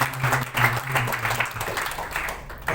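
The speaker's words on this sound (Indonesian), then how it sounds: "kita beri aplaus kepada para dosen yang terus" Applause for the lecturers fills a graduation ceremony hall, a steady wash of many hands clapping at moderate volume throughout.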